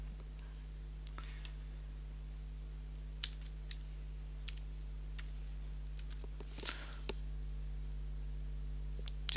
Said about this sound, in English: Just type it, there you go.